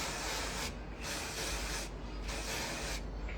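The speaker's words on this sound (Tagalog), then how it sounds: "para ma-lock in siya, spray paint, hairspray," Hairspray hisses out of a can in three close, loud, evenly spaced bursts, each lasting under a second and separated by short pauses.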